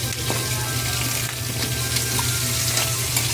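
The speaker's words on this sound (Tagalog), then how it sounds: "Ganito ko po niluluto ang munggo. Pinakuluan, tapos piprituin ko muna yan." Boiled mung beans frying in a pan give a steady, close sizzle that holds level throughout, with faint stirring and clinks and no talking.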